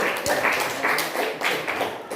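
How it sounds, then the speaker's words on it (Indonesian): A classroom group claps together during a chemistry-reactions lesson, a steady run of quick, fairly close hand claps that rise and fall in bursts over a couple of seconds. "Kasih tepuk tangan dulu."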